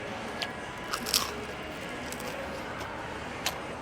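Crunchy fried corn batter snack bitten and chewed at a street stall in Yangon, Myanmar, with several sharp close crunches scattered over a steady busy street background.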